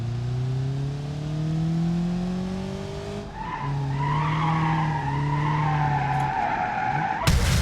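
Car engines whine and tires squeal as vehicles skid, with shifting engine pitch throughout, ending in a sudden loud side impact.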